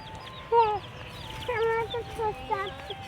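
Escaped village chickens cluck in short bursts, three or four close calls spread across a few seconds over quiet outdoor background.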